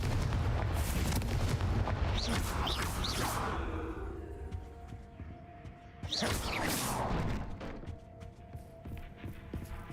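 A fiery Confringo blast from Hogwarts Legacy erupts as a loud rumbling boom with whooshing streaks, fading into a lower rumble before a second burst flares up, all without speech.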